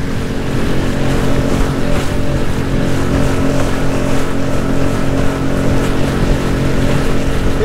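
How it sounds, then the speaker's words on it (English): A solo skiff runs over choppy water with a trolling motor on the front, giving a steady, loud engine drone mixed with broadband wind and water rush that continues unbroken throughout, with no talk. "A little choppy out here, baby. But the solo skiff taking it like a champ."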